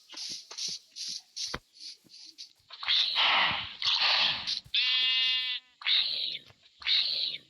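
Sheep in the Minecraft video game bleat repeatedly in short, nasal, wavering calls, loud and close, separated by brief pauses and soft shuffling sounds.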